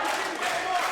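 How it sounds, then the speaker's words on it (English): Wrestling audience roaring and chanting in support of wrestler Nathan Archer, a dense continuous crowd din that stays level throughout the short moment. "They're chanting his name like the idiots that they are."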